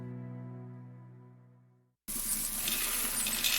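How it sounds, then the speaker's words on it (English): Coins pour down a drain in a loud, continuous clinking rush that follows a fading ringing tone and a brief silence. "That's the sound of money being poured down the drain."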